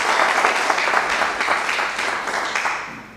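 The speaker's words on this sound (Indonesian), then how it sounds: "Oke, tepuk tangan buat Anda semua." Loud, close applause from a crowd fills the moment, a dense wash of clapping that gradually fades away toward the end.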